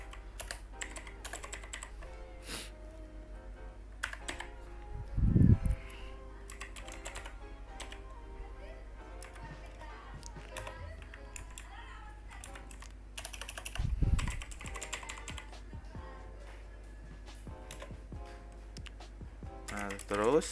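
Someone types on a computer keyboard while setting up database replication, quiet irregular bursts of key clicks with a couple of heavier thumps, close and soft.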